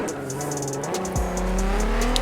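In Forza Horizon 4, an MK4 Golf R32 with a loud exhaust spins out. A steady engine drone runs beneath a squealing tire pitch that slides down and then rises again as the car revs, loud and unbroken, with no talking.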